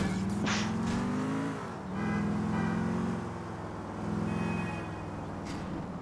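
Car engine in the racing-style game GTA IV The Ballad of Gay Tony, a steady close drone that swells and dips with throttle changes over about six seconds, with no talking.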